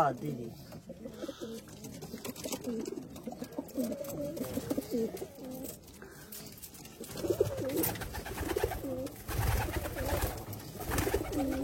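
Rajshahi Girbaz pigeons coo softly and repeatedly at close range, a low rolling call that runs beneath quiet conversation, with louder talk and handling noises coming in over the second half.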